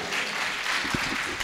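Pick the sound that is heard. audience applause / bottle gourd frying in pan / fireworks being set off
audience applause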